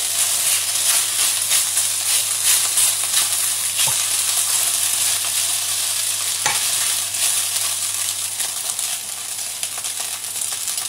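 Spaetzle browning in a pan, a steady close bright sizzle throughout with a couple of faint knocks of a utensil.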